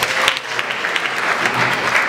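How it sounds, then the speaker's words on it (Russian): Applause from an audience at a TV channel presentation party, a short continuous wash of clapping with a faint crowd murmur beneath it. "Я думаю, это заслужит аплодисменты,"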